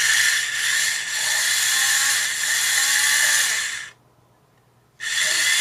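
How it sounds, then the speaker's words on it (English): A small power drill bores holes into a Warhammer 40,000 miniature base for styrene rods, its high, steady whine running close and loud, stopping for about a second, then starting up again. "We're gonna drill these holes in here."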